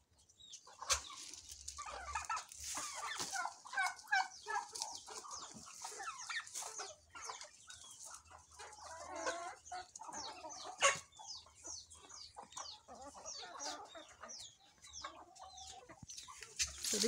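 Chickens on a small urban farm in Kampala, Uganda cluck and chatter close by, with bursts of wing flapping and scattered rustling throughout.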